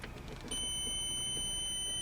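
A multimeter sounds a steady continuity beep as its probes touch, a sustained high tone starting about halfway through and holding to the end over low background hum.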